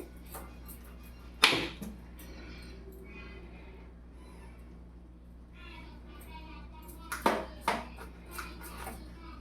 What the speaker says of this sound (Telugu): ఈ కత్తి సూపర్గా దిగుతూ ఉందండి